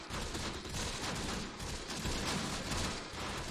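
Mortar or rocket grenade fire in the WWII tactics game Close Combat: The Bloody First, heard as a dense, continuous roar of distant battle with overlapping bursts and no clear single blast.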